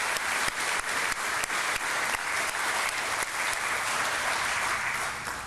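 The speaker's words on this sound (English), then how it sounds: "Let's give them a round of applause." A crowd at an airport police facility ribbon-cutting ceremony claps steadily, a dense and fairly loud round of applause with a few sharper claps standing out, continuing for several seconds without talk.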